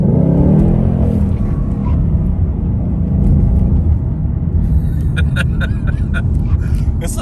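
A 2020 Ford Mustang GT with its 5.0 V8 rumbles steadily while driving in slippery snow mode, leaving the highway, a continuous close low drone with light road noise and a brief voice at the start.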